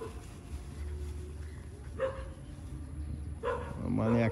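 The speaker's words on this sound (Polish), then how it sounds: "Tutaj widzieliśmy już kilka psów się takich kręci." Dogs roaming near a spot in Cambodia give a few yips and barks at a moderate distance, mixed with outdoor background noise and under people talking.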